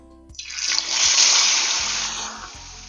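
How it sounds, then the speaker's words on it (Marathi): A stuffed pomfret dropped onto a hot, oiled tava sets off a loud, hissing sizzle that swells quickly and then fades over about two seconds. "तेल आपलं तापलंय तव्यामध्ये आता पापलेट टाकून घेते"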